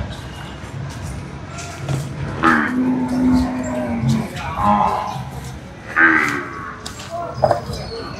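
Buffalo calves at a busy cattle market, with a few low calf calls rising over crowd noise and nearby chatter.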